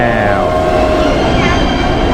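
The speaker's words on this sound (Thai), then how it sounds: "รถไฟ มิกกี้เมาส์" A Mickey Mouse-themed train pulls in at Tokyo DisneySea with a loud, continuous rumble and a rising whine from the rails, and people chatter over it.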